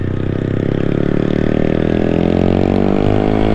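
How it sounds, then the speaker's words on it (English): A gas engine revs up steadily, its pitch climbing over a few seconds, loud and close with no talking. "You about to hear some gas engine"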